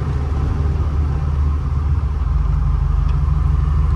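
A 1949 Ford F1 V8 hotrod restomod truck slows to a stop. A steady, loud, deep engine rumble settles toward an even idle pulse, with no distinct brake noise and no voices.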